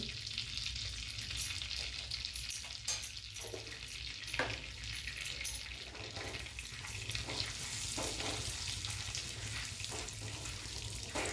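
Asafoetida sizzles in melted butter in a pan, a steady close frying hiss with occasional soft stirring clatter and no talking.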